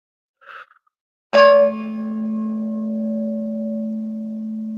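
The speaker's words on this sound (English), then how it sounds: "if you hear that chime, let me know. That's the chime to center everything or to get focused." A meditation chime is struck once and rings out loud and clear, its bright metallic tone sustaining and slowly fading for several seconds after a brief faint sound before it, with no talking.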